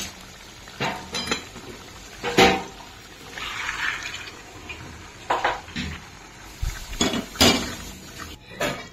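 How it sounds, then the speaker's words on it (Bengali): Gravy is poured and spooned over potatoes in a pot for Kashmiri dum aloo, with close wet splashes, metal spoon clinks against the pot and intermittent scraping in a quiet home kitchen. "এবার এই গ্রেভিটাকে দিয়ে দেবো এই আলুগুলোর মধ্যে।"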